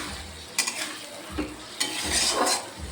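Potatoes, onion and spices with nigella seeds and bay leaf frying in a pan, a continuous close sizzle broken by a few scraping stirs of a spatula, with no talking.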